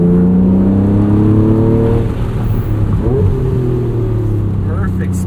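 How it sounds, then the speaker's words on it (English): A 1992 Acura NSX engine revs through a downshift on a canyon drive, a loud close mechanical drone whose pitch climbs and then falls into a rougher, lower tone, with voices talking over it. "Perfect spicy downshift."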